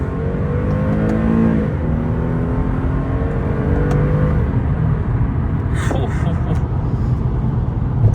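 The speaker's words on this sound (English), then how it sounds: "Let's downshift. We're in second gear." An Infiniti G37 engine rising in pitch as it revs through a paddle-shift downshift into second gear, a loud steady interior drone with someone talking over it.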